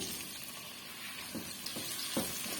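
Tomatoes hitting hot oil in a pan while cooking a radish curry, a soft steady sizzle with a few louder crackling bursts toward the end, close and fairly quiet, no talking.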